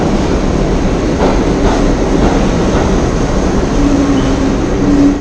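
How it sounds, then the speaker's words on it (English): A New York City subway train rumbles from inside the car, loud continuous roar of wheels on rails with faint clacks and a thin squeal near the end, no voices. "The subway is pretty loud."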